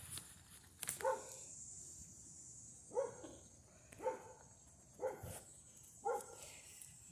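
Two stray dogs outdoors give a run of short barks and whimpers, five spaced yelps roughly a second apart, faint and somewhat distant over quiet background.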